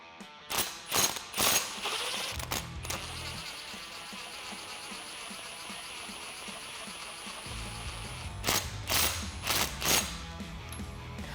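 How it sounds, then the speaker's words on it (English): Hand cranking a Lange Hoist-A-Cart cable winch mounted over a Jeep Wrangler JL, giving a few sharp mechanical ratcheting clicks in short bursts at the start and end, with a steady low hum in between and no talk. "then we can go ahead and hand crank it"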